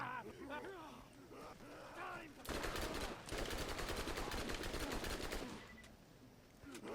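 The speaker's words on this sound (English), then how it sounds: "Even when we're in a big firefight with a lot of effects going on" Rapid gunfire bursts in a big Borderlands firefight, loud machine-gun rattles that start abruptly after a stretch of talk and run for several seconds before fading back to a voice.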